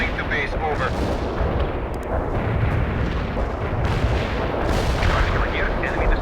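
Heavy artillery barrage in the real-time strategy game World in Conflict: continuous loud booms and shell blasts rolling together without pause, dense and close throughout.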